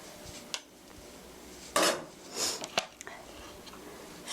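A metal pan is set down on a stovetop while cooking napa cabbage stew, giving a couple of near, clattering knocks and scrapes with short pauses between them, and no voices.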